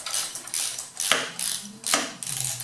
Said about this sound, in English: Once you have them all in, just tighten them down.